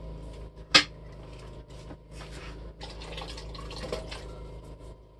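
Undrained beans and other ingredients dumped into a cooking pot for hillbilly stew, a sharp clank of metal followed by wet sloshing, drips and soft scraping, close and without talk.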